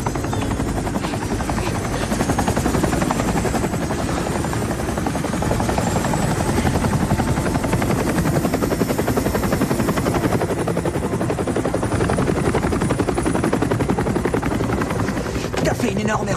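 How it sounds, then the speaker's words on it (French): Helicopter rotor thudding loudly and steadily close by, a dense continuous chop with engine whine that fills the scene throughout while voices shout faintly underneath. "Faites décoller l'hélico!"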